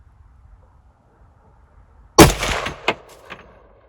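A single loud, close rifle shot from a 350 Legend at a buck during a deer hunt, cracking out of near silence and followed by a brief echoing tail and a smaller knock.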